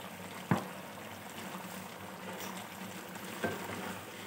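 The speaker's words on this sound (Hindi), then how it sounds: "ये तमाम मसालों को हम डाल के इसके अंदर अच्छे तरीके से हम भून लेंगे।" Chicken and ground spices, including garam masala, fry in a karahi pan with a soft, low sizzle, broken by two quick knocks of stirring against the pan.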